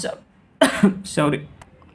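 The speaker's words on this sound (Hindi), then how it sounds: "वो टीचिंग कराते कराते वो थोड़ा एक खांसी हो गया" Several harsh coughs burst out close to the microphone, a couple in quick succession, with a brief voice sound at the start.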